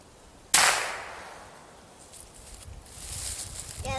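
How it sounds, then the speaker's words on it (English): A single sharp crack from a Cricket .22 youth rifle fired outdoors, near and loud, fading into quiet rustling and light movement afterward. "it's the slow squeeze backwards until the rifle goes off"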